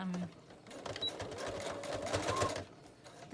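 A sewing machine stitches a loose patchwork of fabric scraps for a gift-bag junk journal, running in a steady, close, rapid rattle for about three seconds before stopping briefly, with soft talk underneath.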